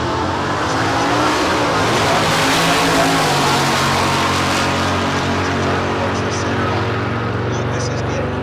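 A Camaro and a pickup truck drag racing at a street car event, roaring engines at full throttle forming a loud, continuous, steady drone throughout, with no pauses.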